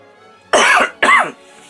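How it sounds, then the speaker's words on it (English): A person with a cold and chest congestion gives two short, dry coughs close to the microphone, the bursts about half a second apart, in a quiet room. "I still have a little bit of the dry cough"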